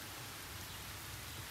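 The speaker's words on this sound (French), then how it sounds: "Il pleut." Rain pours down outdoors in a brief sunny-day shower, a dense steady hiss with a low rumble beneath, continuous and fairly quiet with no voices.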